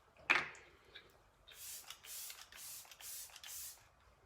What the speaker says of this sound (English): we're gonna go in with a little bit of our Let It Set Refreshing Spray and just seal the deal